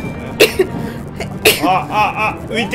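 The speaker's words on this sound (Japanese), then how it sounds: "こんな時にくしゃみした。" During a New Super Mario Bros. U Deluxe session, a person gives one short, sharp sneeze close to the mic. Quick talk follows over the game sounds.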